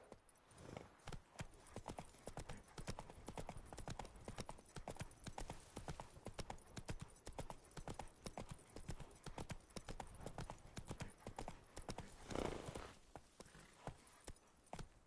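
Horse galloping in The Witcher video game, a continuous fast clip-clop of hooves that runs the whole stretch, loud and close, with a brief snort or whinny near the end.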